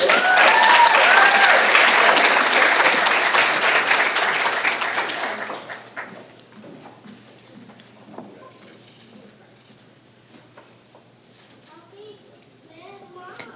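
An audience at a student leadership graduation claps and cheers loudly for a graduate. The applause is dense and sustained for several seconds, then fades into scattered murmurs and sparse claps.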